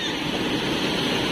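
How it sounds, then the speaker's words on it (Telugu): Water rushes between rocks at the Poluru waterfall as a dense, steady roar with no breaks, loud and close. "రాళ్ల మధ్య నుంచి ప్రవహించే నీరు"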